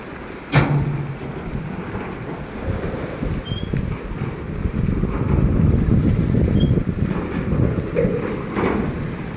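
On the wide river crossing from Cu Lao Dung toward Tieu Can, strong wind buffets and choppy water rumbles continuously for several seconds. A single thump comes near the start, and no voices are heard.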